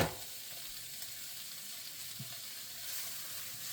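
Chicken sausage sizzles quietly in a pan, a soft, steady frying hiss with a brief thump at the start and a small clunk partway through, heard with no talk.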